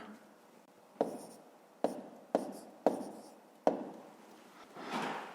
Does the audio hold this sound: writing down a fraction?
yes